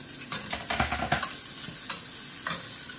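Garlic and onion sizzle in hot oil while a utensil stirs and scrapes the pan, with several short clattering strokes over a steady frying hiss, close and fairly quiet.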